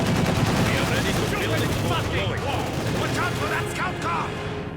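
Submachine gun fire from Soviet conscripts in a Company of Heroes 2 battle, with rapid bursts and scattered shots crackling over dense battlefield noise. A commentator's voice talks over it.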